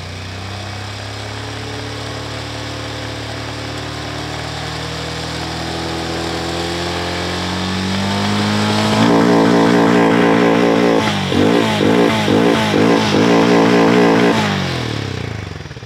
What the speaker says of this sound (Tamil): ஸோ இந்த பைக்கோட எக்ஸாஸ்ட் நோட் வந்து ஸ்பெஷல், நல்லா இருக்கும் கேட்கறதுக்கு.